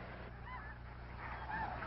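Snow geese honk at Bosque del Apache National Wildlife Refuge in New Mexico, a few faint, distant calls rising over a soft background hush of the wintering flock.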